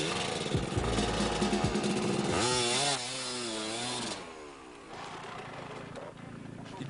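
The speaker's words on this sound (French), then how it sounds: "la moto" A motorcycle engine during an enduro rally revs loudly with rising and falling pitch, then settles to a rougher idle-like drone amid outdoor noise.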